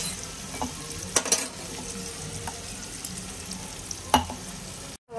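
Garlic frying in a pan with onions and tomatoes, a soft, faint sizzle with occasional scraping stirs and clinks.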